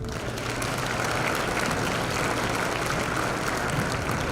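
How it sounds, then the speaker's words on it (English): A crowd at a business awards gala claps in a sustained, dense burst of applause, steady and fairly loud for the whole stretch. "just hold your applause till I finish all these names"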